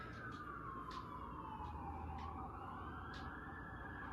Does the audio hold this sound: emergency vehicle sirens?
yes